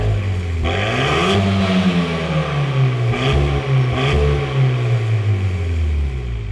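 A Renault Mégane R.S. Trophy-R with a full titanium Akrapovic exhaust revs loudly nearby, its engine note climbing and falling through several sustained rises and drops with no talking.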